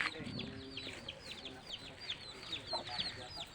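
A chicken clucks in short, soft bursts at a distance, with faint high chirps from chicks on a hillside, while a voice speaks quietly under it.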